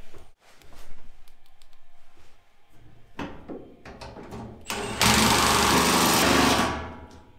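A power screwdriver driving three 14 mm screws, heard as short whirring bursts and clatter followed by a long, loud, steady motor whine that tapers off, close up with no speech.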